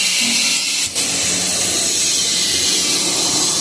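A gas torch flame roars in a loud, steady broadband hiss while heating a leaking gas boiler's heat exchanger, with one brief dip near the start.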